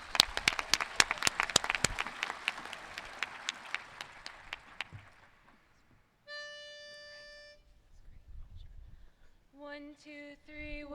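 Audience applause at a Cal Day 2022 welcome, greeting a singing group: dense, loud clapping that thins and fades over about five seconds, followed by a held tone and a group of voices beginning to sing.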